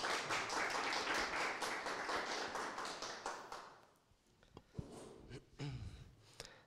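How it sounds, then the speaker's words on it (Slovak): Applause for a vice-dean at a university safety-training workshop. The crowd claps steadily and fairly softly at first, then it thins out to a few scattered claps, small taps and room noise. "Poprosím potlesk pre pána prodekana."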